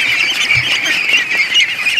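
A crowded pen of ducklings gives off a dense, continuous chorus of shrill peeping squawks, loud and close, with no voices.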